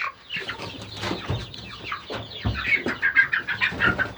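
Small Orpington-type chick peeping and clucking in short, rapid chirps, close and fairly loud, with a denser burst of calls toward the end.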